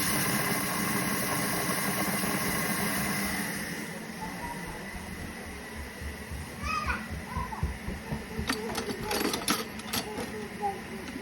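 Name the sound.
Thermomix TM6 mixing at speed 4, creaming butter and sugar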